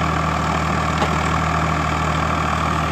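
A Farmtrac 60 tractor engine runs a super seeder in a field, a loud, steady low drone with a constant hum and no change in pitch throughout.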